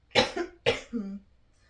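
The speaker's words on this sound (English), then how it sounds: "Just gonna cough again, sorry." Two sharp coughs in quick succession, close and fairly loud, followed by quiet.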